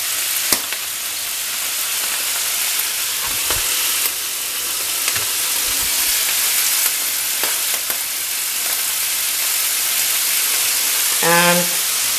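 Bacon cooking in a pan, a loud, continuous close sizzle and crackle with occasional pops and a brief tonal chirp near the end, no speech.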